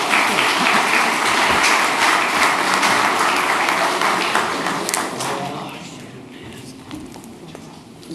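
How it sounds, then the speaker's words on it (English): A round of applause from the audience at a Chamber of Commerce political forum, dense and steady at first, then thinning and fading toward the end as a few claps trail off. "Sure, we can give a round of applause."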